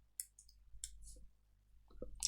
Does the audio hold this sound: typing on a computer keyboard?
yes